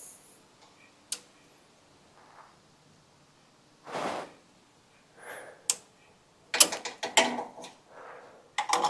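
A ratchet wrench works a half-inch battery terminal nut on a John Deere 300, giving faint, sparse clicks and short ratcheting bursts between quiet pauses, with a couple of sharper metallic knocks.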